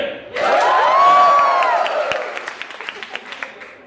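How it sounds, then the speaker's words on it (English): A comedy show audience bursts into a loud cheer with whoops and shouts, swelling quickly then fading into scattered claps and a few trailing yells. "Give me a cheer if you're Italian."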